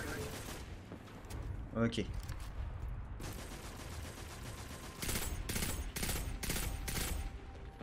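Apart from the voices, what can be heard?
enemies shooting gunfire in the video game Destiny 2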